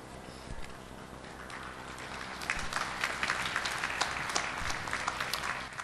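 A large audience at a university graduation ceremony claps, starting as scattered near taps that swell into sustained, dense applause filling the hall, moderately loud and continuing to the end.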